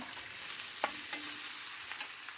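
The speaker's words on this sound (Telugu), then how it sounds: "పచ్చిమిరపకాయలు, కొద్దిగా ఉప్పు వేసి వేయించినానండి" Onions, tomatoes and green chillies fry with a little salt in a pan for sabudana khichdi. A soft continuous sizzle runs throughout, broken by a couple of brief stirring scrapes.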